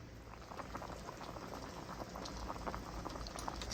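A pot of ogbono soup with stockfish bubbles on the stove, a dense, steady burble of small popping bubbles heard close and fairly quiet with no voices.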